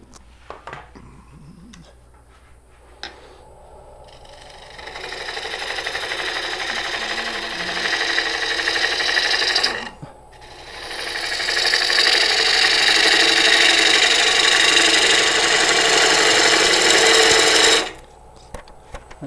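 A wood lathe spins a nut-embedded live edge bowl while a bowl gouge cuts it, giving a steady, loud scraping whir that builds in two long passes and drops out briefly between them and again at the end.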